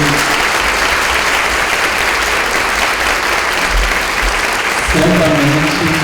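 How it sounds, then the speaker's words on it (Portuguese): An audience at an education forum in Brazil applauds in a dense, steady wash of clapping that keeps going throughout, with a voice briefly audible near the end. "Então quero que vocês agora aplaudam o professor Celso Antunes"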